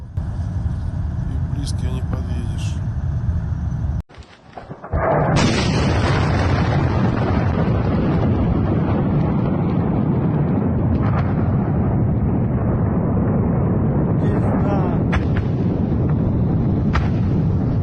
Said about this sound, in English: A fuel truck exploded on the M11 highway in Kalininsky district.